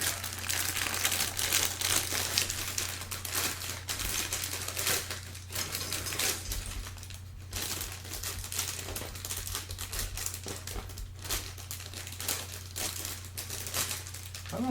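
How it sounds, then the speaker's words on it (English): Plastic bag crinkling steadily and close up while parts of a Bandai HG RX-79[G] Gundam and Zaku ground war set model kit are unwrapped, a continuous rustle over a low electrical hum. "I don't know if the plastic crinkling is really annoying."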